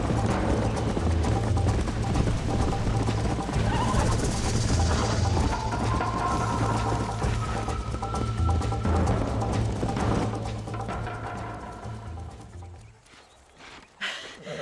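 Horse hooves galloping in Red Dead Redemption 2, a loud rapid steady clip-clop drumming for most of the stretch before fading out near the end.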